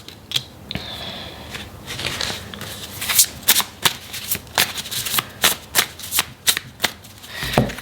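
Tarot cards shuffled by hand close up, a run of crisp riffling bursts and soft slaps repeating in quick irregular rhythm, with no talking.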